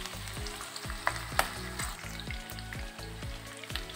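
Onions frying in a pan for a paneer gravy, with a loud continuous sizzle punctuated by rhythmic scraping stirs every half second and an occasional sharp clink, no voices.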